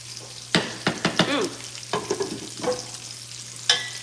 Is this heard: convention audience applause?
no